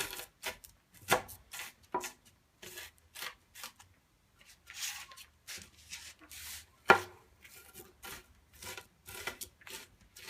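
A kitchen knife chops food finely on a cutting board, with a quick run of sharp, close taps that pauses briefly and then resumes in an uneven rhythm, plus one louder knock partway through.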